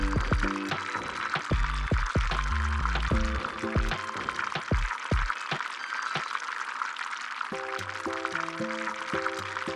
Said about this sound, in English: allow yourself a moment to relax to the soothing sound of the sizzle